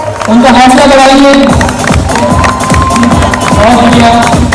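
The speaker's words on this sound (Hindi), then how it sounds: "जोरदार तालियों से उनका हौसला बढ़ाइए" An audience at a children's stage event cheers and claps loudly for a young performer, a dense crowd roar with shouts and rhythmic clapping, mixed with an amplified voice and musical tones near the start.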